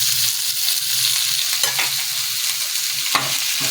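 Onion-coconut masala sizzles in a hot pan with wet cashews while a spoon stirs and scrapes through it, giving a steady frying crackle broken by a few sharp clinks.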